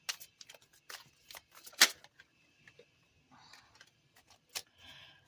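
Tarot cards being shuffled by hand, a run of quiet, close, irregular flicks and riffles with small snaps between them.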